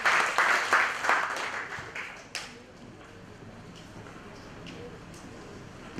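Applause for a lecturer at the close of a public lecture on smart city research collaboration, louder for the first two seconds and then fading to sparse scattered claps under low room noise.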